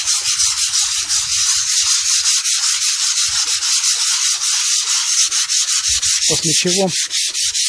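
Sandpaper is rubbed back and forth over a wooden part in steady rapid strokes, a close, loud, rhythmic scratchy rasp, with a voice briefly near the end.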